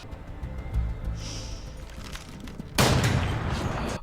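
Gunfire from the war film 1917 in a battlefield scene: a sharp, loud burst of shots cracks out about two-thirds of the way through, following quieter rumbling ambience and a faint whistle.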